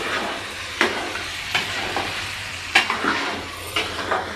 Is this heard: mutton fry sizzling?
yes